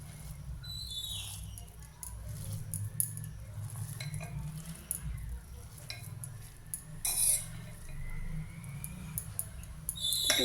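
Cooked Kashmiri pulao rice being mixed and turned in a pot, soft scraping and occasional utensil clinks with a faint sizzle, intermittent and close, with brief low voice sounds in the background.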